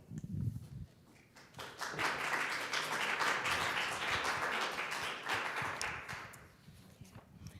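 Audience applause at a membership meeting of a music teachers' association, a dense wash of many hands clapping that swells after a brief pause and holds steady for several seconds before fading out.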